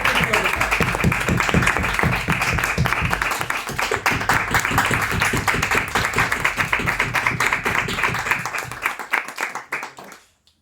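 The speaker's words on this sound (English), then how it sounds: "with a huge round of applause, please help me welcome that person onto the stage" An audience at a Toastmasters club farewell meeting bursts into sustained applause for the club secretary stepping on stage, dense clapping that holds for about nine seconds before tapering off and stopping.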